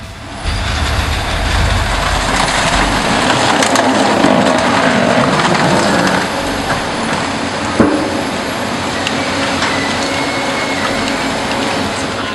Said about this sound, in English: The Mike Simmons Crusher is here to obliterate a van in the blink of an eye